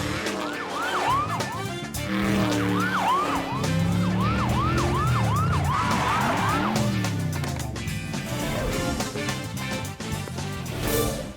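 A police car siren wails through a cartoon car chase on Griffin Rock, rising and falling in quick repeated whoops over engine and action music, loud and continuous for most of the stretch.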